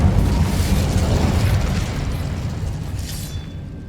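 Incendio fire spell cast in Hogwarts Legacy, a loud whooshing burst of flame that roars up at once and slowly fades over a few seconds, no voices.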